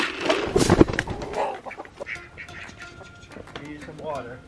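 Chickens cluck and squawk outdoors on a cold homestead morning, several birds calling in short bursts, loudest at the start and then quieter, with people talking over them.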